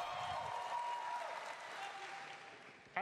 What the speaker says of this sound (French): Le mec, il est obligé d'attendre qu'on l'applaudisse.